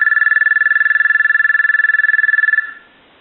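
The ringer of a Thomas limited edition telephone buzzes in one continuous rapid trill for a few seconds, loud and close, then cuts off abruptly.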